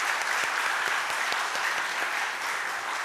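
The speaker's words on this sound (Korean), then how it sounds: "우리 박수로 또 격려와 축복해 주시면 좋겠습니다." A church congregation applauding during a Korean worship service, sustained dense clapping from many hands that fills the space evenly throughout.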